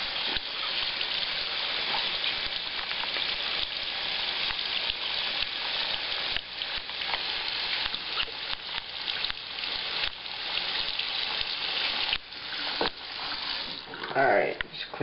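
Hot tap water runs steadily over a scratched Call of Duty game disc as it is washed under a faucet, a loud continuous rush with someone speaking briefly over it.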